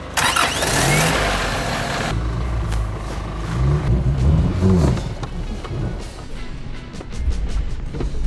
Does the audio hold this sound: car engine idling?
yes